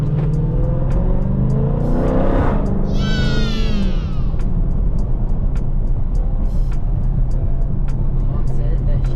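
A Dodge SRT Scat Pack's engine drones steadily while the car drives, with a rising rev surge near the three-second mark. People talk over the continuous engine noise throughout.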